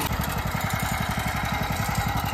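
A mini tractor engine runs close by at a steady idle, with an even, rapid chugging pulse throughout.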